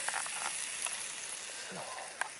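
Steak frying in a pan at a winter tarp campsite, a steady soft sizzle with faint crackles and one sharp pop near the end, heard close and alone.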